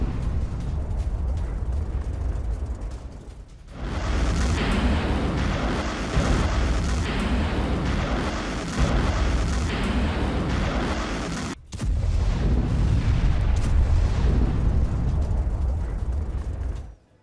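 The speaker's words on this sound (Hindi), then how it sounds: "फ्लैमे थ्रोअर सिस्टम टॉस 1A से यह हमला हुआ।" Heavy, sustained explosive rumble from a TOS-1A thermobaric flamethrower system attack on Ukrainian military vehicles, a dense roaring barrage that swells and briefly cuts out, with no voices.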